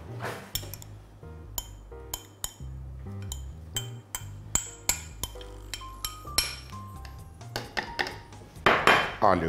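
A utensil stirs cheese and flour into pie batter in a bowl, with repeated sharp clinks and scrapes against the bowl at a steady, quickening pace, close and fairly loud with no talk.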